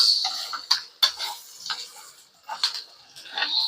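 Ginger, onion and garlic sautéing in oil in a pan for a pork laing dish: a steady sizzle with sharp clicks of a utensil scraping and stirring against the pan, close up, with no voices.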